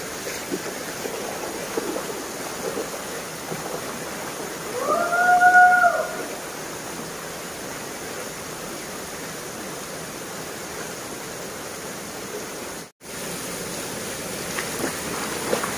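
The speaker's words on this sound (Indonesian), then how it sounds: "Ini benar-benar jalur air langsung dari air terjun yang utama di sana" River stream flowing from the main Badak waterfall, a steady broadband rush of water throughout, with a brief louder whoosh midway and a momentary dropout near the end.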